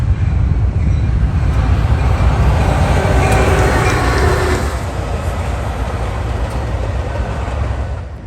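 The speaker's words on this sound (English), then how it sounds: "I was jump scared by this metro train." A metro train rushes past close by as a loud, steady rumble and rail roar that holds the whole time, easing off slightly toward the end, near a freight line with locomotives.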